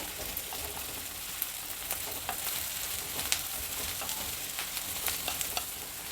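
Curry leaves fry in hot oil over a high flame for sabsige soppu mango chitranna, giving a steady, close crackling sizzle with scattered sharp pops and light stirring scrapes throughout.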